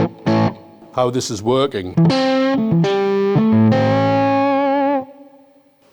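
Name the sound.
electric guitar through Blug amps and Mooer Ocean Machine effects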